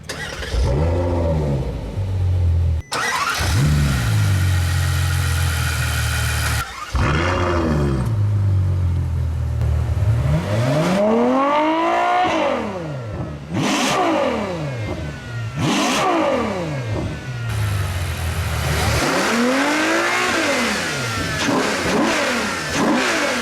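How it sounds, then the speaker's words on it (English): A 2017 Ferrari F12 Berlinetta V12 engine cranks and fires up close by, then revs repeatedly, each rev rising sharply before falling away, loud and throaty. "I'm going to press the engine start button on the left bottom of the steering wheel"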